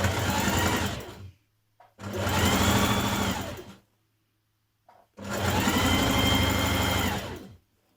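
A sewing machine stitches a single fold hem on a summer dress, running in three steady bursts of a few seconds each with short silent pauses between, close and loud with no talking.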